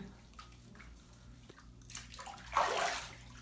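Water sloshes and splashes as a puppy is washed in a bath, a soft low churn building to a louder, brighter splash near the end, with no talk over it.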